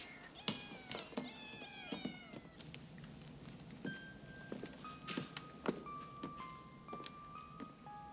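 Several cats meow repeatedly in a film scene, clear rising-and-falling cries at moderate distance over a quiet room background, with soft thumps and footsteps between them.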